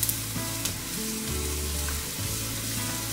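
Chopped onion sizzles and fries in a hot pan, a loud, steady crackling hiss with stirring clatter and low hum underneath, close up and without talking.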